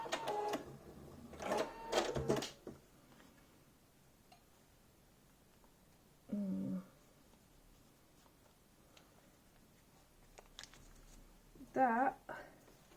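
A sewing machine roll-stitches along a marked line on a fabric skull's teeth in short runs, with long quiet gaps between bursts, while a person talks intermittently nearby.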